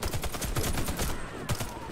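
Rapid gunfire from the co-op shooter game WarFace, a dense fusillade of loud, closely spaced shots with machine-gun bursts, briefly dropping out near the middle before another sharp burst, no voices.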